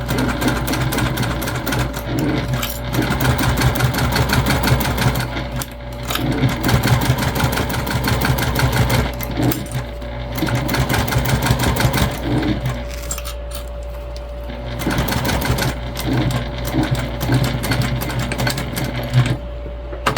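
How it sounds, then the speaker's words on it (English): Sewing machine stitching a facing onto the panels of an Ellana date-night bag, a steady close whirring run with brief pauses and restarts throughout. "we're just gonna sew our facing on, which will join our two panels as well"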